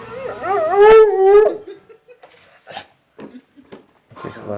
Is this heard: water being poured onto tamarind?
no